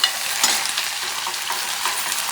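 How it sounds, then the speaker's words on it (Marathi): Chopped onion hits hot oil with a bright, close crackling sizzle, stirred through with light scraping, steady throughout. "कांदा टाकले कारण की तेल आपलं चांगलं तापलेलं आहे"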